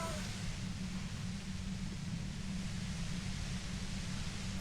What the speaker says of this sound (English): violet-white noise becomes even more overwhelming closer to the compressor